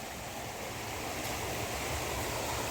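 The flooded Ganga rushes past the ghat at Haridwar in a steady, loud, broad roar of surging water, with no voices.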